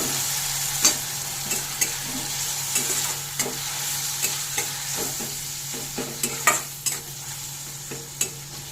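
Turmeric and Kashmiri chili powder masala frying in a pan with a little water, a constant hissing sizzle under repeated scraping knocks of a spatula stirring it, close by with no talk.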